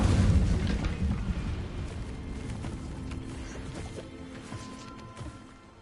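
A fire spell cast in Hogwarts Legacy erupts as a loud, rumbling burst that fades into a crackling, smoldering tail over several seconds, with no talking over it.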